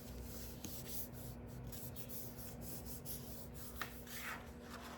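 A paper card being folded over for an offset fun-fold embellishment, heard as a steady, close, continuous rubbing and creasing with a small tap near the end.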